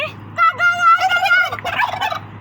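A pet turkey gobbles loudly and close by, a rapid warbling call that rises, breaks and repeats over about two seconds, with no talking.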